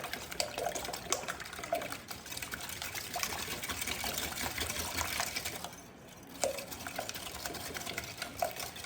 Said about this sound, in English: I'm gonna whisk this before putting our milk in, just to make sure our eggs are good and mixed up